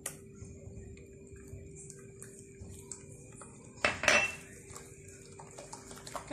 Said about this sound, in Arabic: كنحاول انني ندخل هاد البيضه في هاد المكونات